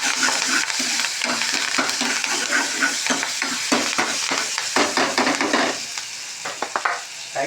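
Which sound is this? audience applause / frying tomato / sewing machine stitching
frying tomato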